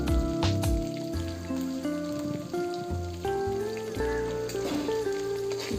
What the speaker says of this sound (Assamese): এতিয়া পিঁয়াজখিনি অকণমান টাইম ভাজিম।